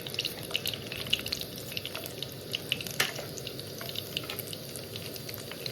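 Urad dal, mustard seeds and cumin sizzling in hot tempering oil for a tomato chutney, a steady close crackle with scattered pops and spits throughout.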